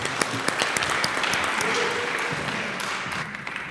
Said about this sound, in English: Please give a huge round of applause for Makoto Inoue from Hachi Art.